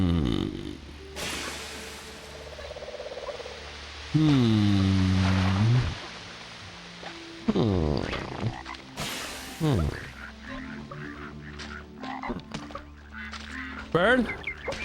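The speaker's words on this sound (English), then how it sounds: "Bird" Bird honks from Ice Age 2: The Meltdown, a PS2 game: a few loud, separate nasal calls over a steady game soundtrack.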